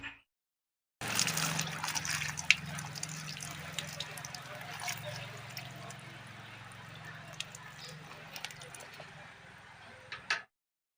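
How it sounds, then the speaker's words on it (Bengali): Liquid whey strained from curdled milk curds (chhena) in a home kitchen, a steady soft trickling and dribbling of water running for about ten seconds, with a few faint clinks. "এখন আমি ছেঁকে নেব।"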